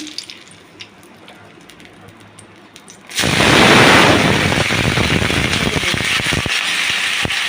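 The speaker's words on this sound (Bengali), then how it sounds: "সাদা তেল দিয়ে করছি তেজপাতা দিয়ে দিচ্ছি" Bay leaves dropped into hot white cooking oil make a quiet start, then burst into a sudden loud, crackling sputter that stays strong and dense for several seconds.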